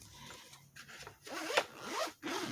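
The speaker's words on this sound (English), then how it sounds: "Very easily unzips." A black zip-up case is unzipped close by, giving quiet rasping zipper pulls in several short strokes over a couple of seconds, with no talk.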